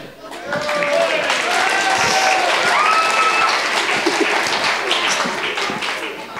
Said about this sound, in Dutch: Goed, een applaus.